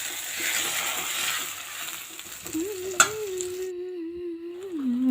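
Steady sizzle of tomato juice frying in oil for egg gravy while being stirred, with a single sharp clink partway through and a low tonal hum later.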